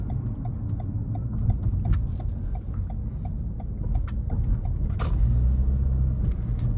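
A 2021 Toyota Camry XSE rolls over a rough, bumpy Houston road, with a steady low cabin rumble broken by a few sharp thumps and jolts from the uneven surface.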